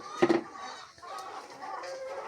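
Farm chickens cluck in short bursts, one hen loud and close at first, then softer clucking and murmurs continue faintly in the background.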